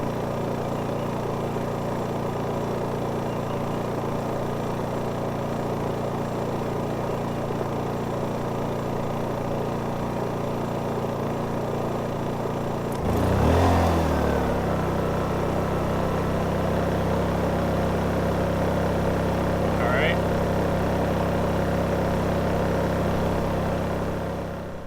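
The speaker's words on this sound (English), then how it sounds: "It just kind of ramped up for the generator." An RV generator running steadily under load, its constant mid-range engine drone swelling and shifting pitch partway through as it ramps up, then holding a fuller hum to the end.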